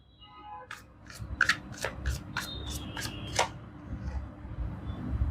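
Tarot cards are shuffled and pulled by hand, giving a quick series of about ten crisp slaps and flicks up close, followed by softer rustling against a quiet room background.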